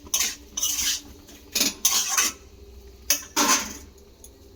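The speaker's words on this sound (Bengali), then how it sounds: "দিয়ে এবারে সমস্ত উপকরণগুলোকে একসঙ্গে মিশিয়ে নিতে হবে" A spoon scrapes and clanks against a pan while pav bhaji ingredients are mixed together, giving several loud, close bursts of metallic stirring with short quiet gaps between them.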